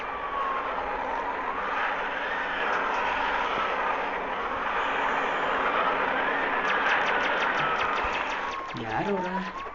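A helicopter flies in the Vegas Crime City video game, making a steady whirring drone throughout, with a voice talking over it and a short burst of other game sounds near the end.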